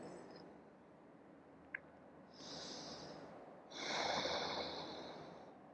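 A person in a yoga pose takes slow, deep breaths: two soft, drawn-out airy breaths, close but faint, with quiet stillness in between.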